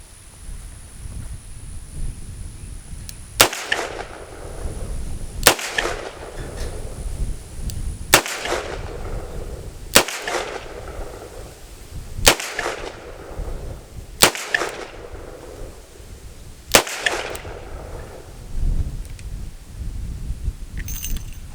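Revolver shots fired at a range from a Colt Python or S&W 686, six sharp loud cracks spaced about two seconds apart, each followed by a brief ringing decay.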